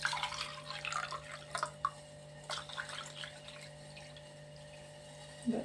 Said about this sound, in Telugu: దీంతో 2 గ్లాసులు పోసానండి నీళ్ళు.